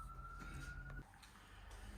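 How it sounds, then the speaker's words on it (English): Emergency sirens passing through a busy small town, faint and distant, a steady wailing tone that drops away midway under low background hum. "as you hear, sirens flying by"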